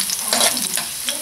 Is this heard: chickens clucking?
no